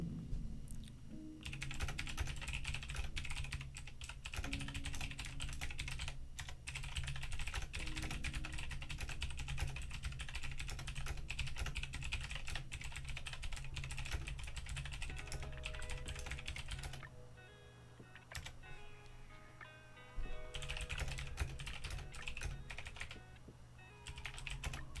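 Rapid computer-keyboard typing during a stock market livestream, with dense continuous keystrokes clattering close up for most of the stretch, briefly easing before resuming; no talking.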